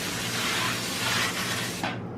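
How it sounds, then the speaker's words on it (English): Cooking oil sprayed onto a foil baking pan while making scalloped potatoes gives a steady, close airy hiss for about two seconds, then cuts off. "Spray your pan with whatever cooking oil you have"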